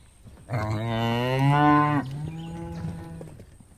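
A cartoon buffalo gives one loud, drawn-out moo that drops into a lower, fading groan, heard alone and close up.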